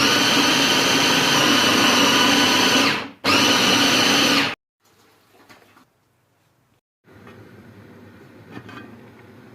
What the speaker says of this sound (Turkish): kapya biberimizi blenderdan geçirdik